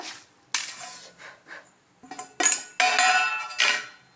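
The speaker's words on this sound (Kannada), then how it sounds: "ಪೀಸ್ ಈ ರೀತಿ ಮಾಡಿಕೊಂಡು ಈ ರೀತಿ ಕಟ್ ಮಾಡ್ಕೋಬೇಕು." A knife chopping a corn cob into pieces on a board, several sharp knocks and clinks in irregular bursts, close and fairly loud, with no talk.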